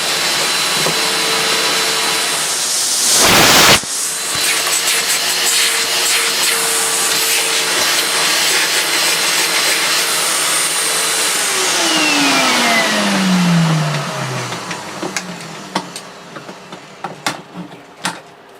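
A new Dirt Devil DD6102 vacuum cleaner runs loud and close under a suction test, with a sharp bump early on, then its motor winds down and fades while small knocks and clatters follow.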